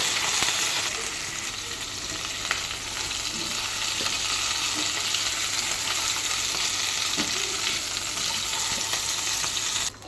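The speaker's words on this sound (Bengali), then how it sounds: "এদিকে বরবটি ভাজিটাও প্রায় হয়ে এসেছে পাঁচ ছয় মিনিট ভেজে নিয়েছি" Yardlong beans sizzle steadily in hot oil in a pan, a dense, continuous, close frying hiss with faint stirring clicks, unbroken and without talk.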